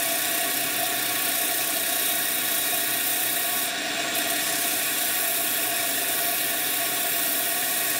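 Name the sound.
spinning wheel head while shaping a bowl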